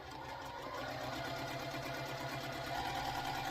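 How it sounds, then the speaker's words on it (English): Sewing machine stitching down both sides of a line on a Louisiana sampler quilt block, a steady fast mechanical whirr with a rapid even needle rhythm, heard close and alone. "We're going to sew down both sides of the line."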